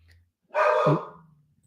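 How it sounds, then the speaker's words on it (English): A single dog bark, close and fairly loud, standing alone after a quiet moment with faint low hum in the background. "Apologize for the dog today"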